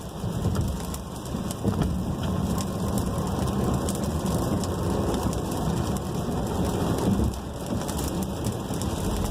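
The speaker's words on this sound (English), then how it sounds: "And the rain doesn't help either." Steady rain pattering on a Volkswagen Tiguan's body and windshield while driving, a continuous hiss with a low rumbling undertone, no voices.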